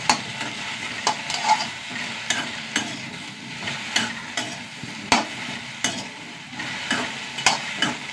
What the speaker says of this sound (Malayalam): എണ്ണയൊന്നും ഒഴിക്കണ്ട കേട്ടോ, എണ്ണ ഒഴിക്കാണ്ട് വറുത്തെടുക്കാം